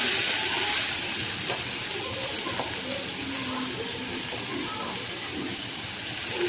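Tomatoes dropped into a hot pan with fried ginger and garlic, a continuous close hiss of sizzling oil with faint talk beneath.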